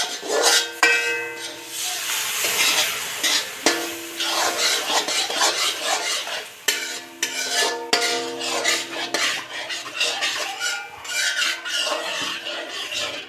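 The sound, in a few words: stirring mohanthal mixture with milk in a pan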